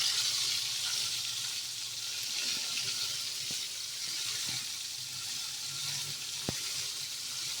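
Prawns frying in hot oil give a steady, even sizzle throughout, with a few faint clicks and taps of handling in the background.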